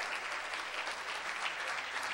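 A church congregation claps together, a soft, even patter of many hands that holds steady throughout with no voices on top.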